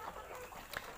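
Yudhistira-breed village chickens clucking faintly in a farm setting, a few soft bursts with one brighter cluck near the end over low background noise.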